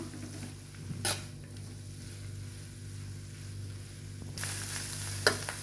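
Fried egg and everything else in a pan of choya fried rice get a light stir. A steady close sizzle runs throughout, with two short scraping bursts of the spoon against the pan, and no talking.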